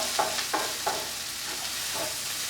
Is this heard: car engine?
no